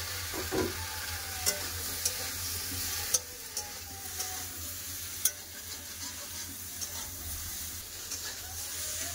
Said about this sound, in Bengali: ঢেঁড়স আর আলু ভালো করে তেল দিয়ে লেড়ে নেবো